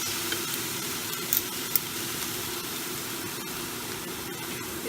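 Prawns and clams sizzling in a frying pan for spaghetti, a steady hissing crackle with a few small pops and clicks, close and continuous, with no voices.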